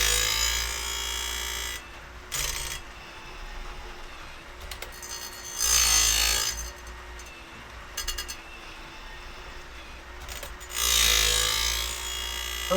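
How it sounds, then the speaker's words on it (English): Woodland Mills RCS28pro chain sharpener grinding a chainsaw tooth in three loud bursts of bright, high grinding, separated by a steady low motor hum with faint clinks. "Most of that grinding is coming off the bottom."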